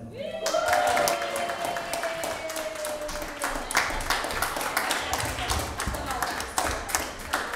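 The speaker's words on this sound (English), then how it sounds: "So a big round of applause." Audience applause at a certificate presentation, a dense burst of many hands clapping that starts abruptly and keeps up steadily for several seconds, with some chatter beneath.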